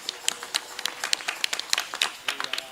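Scattered, uneven hand claps from an audience at an Islamic sermon gathering (pengajian) with a rebana group, heard alone as a short burst of sharp claps.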